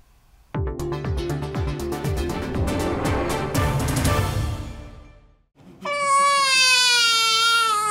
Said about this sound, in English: a newborn baby takes its first few breaths and lets out its first loud cries